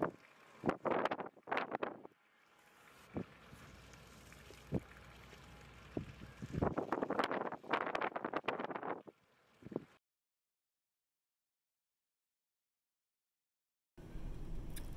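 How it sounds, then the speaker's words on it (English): Strong wind buffets the microphone in loud bursting gusts over open water at the Muskegon wastewater plant, then drops to near silence before another rush of wind returns at the end. "So it's so windy out"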